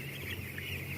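Chickens housed in a colony rack cage coop cluck and murmur continuously, a dense close flock chorus with no pauses or talk.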